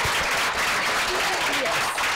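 Audience applause at the close of a session, a steady dense wash of clapping throughout, loud and close, with some voices mixed in.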